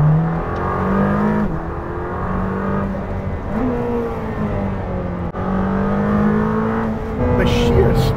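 A Lamborghini Temerario sports car runs flat out at high speed, its engine roaring loudly with shifting pitch through gear changes, while a person talks over the engine noise.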